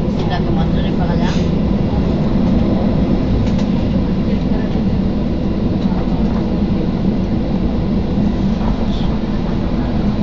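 An airliner taking off from Palma de Mallorca airport gives a loud, steady engine roar and rumble heard from inside the cabin, continuous throughout with faint cabin noises.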